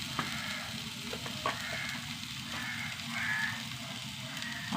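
Ingredients sautéing in a pan for an old-style Kerala dish, a soft, steady sizzle with a few light stirring knocks, fairly quiet and close.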